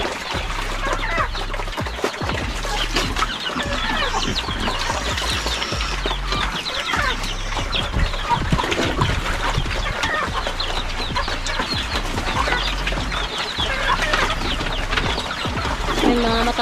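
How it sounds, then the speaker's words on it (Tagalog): Chickens cluck and chatter steadily around a farm while feeding alongside other animals, a busy layer of close clucking over a low, pulsing hum that runs the whole time. "Oh, may manok kasama si ano, si Puti."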